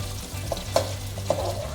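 Garlic frying in hot oil in a pan while cooking water spinach, with a constant close sizzle broken by a few distinct sharp pops of spattering oil, without any voices.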